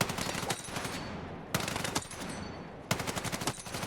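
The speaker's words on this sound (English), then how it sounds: "B36, the second assault rifle you unlock, and it's actually quite good" B36 assault rifle in Battlefield 6 firing three sustained automatic bursts, each a rapid, loud stream of shots with brief pauses between them, sharp and close.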